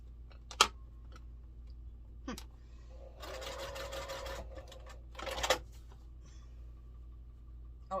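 Sewing machine stitching quilt block pieces for an air castle star block, two short bursts of rapid mechanical running separated by quiet pauses, with small clicks and handling noises between.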